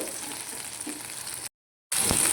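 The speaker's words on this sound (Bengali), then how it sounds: "হালকা জাস্ট ভেজে নেব" Vegetables frying lightly in a pan, giving a steady soft sizzle with faint stirring, then a brief silent gap before the sizzle resumes a little louder.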